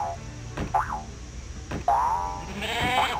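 Cartoonish sheep bleats from a Tetris-style video game, three short wavering cries spaced about a second apart, with springy game sound effects over faint background noise.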